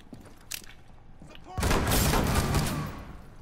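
A .44 fires in a video game, starting with a few faint pops and then erupting into a loud, dense burst of gunfire that rolls on for over a second before fading.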